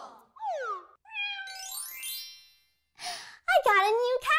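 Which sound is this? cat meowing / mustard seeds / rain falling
cat meowing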